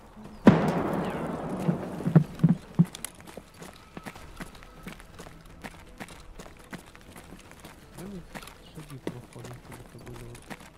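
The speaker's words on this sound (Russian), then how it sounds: "Шаги вроде бы." Footsteps in the shooter game Escape from Tarkov: a quick run of soft thuds and scuffs, loudest early and then scattered and quieter, set against faint ambient noise with no talking.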